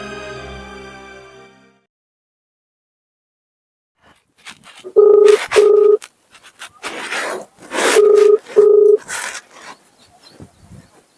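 Dialing a phone call, with several short electronic tone beeps in two clusters after a stretch of silence, close and clear, surrounded by faint rustling handling noise.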